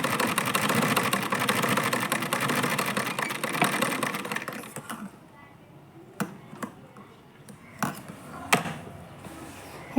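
Sewing machine stitching a blouse, a fast continuous whirring hum for about five seconds that then stops, followed by a few scattered clicks and knocks from handling the fabric at close range.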